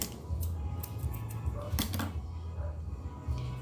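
Scissors snip through kitchen string in a run of quick, faint, close clicks and cuts, spaced irregularly against a quiet background.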